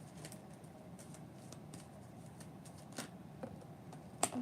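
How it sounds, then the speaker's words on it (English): Quiet, continuous riffling of a tarot card deck being shuffled, soft papery flicks repeating steadily, ending with a sharper slap. "I'm going to keep shuffling until one actually falls"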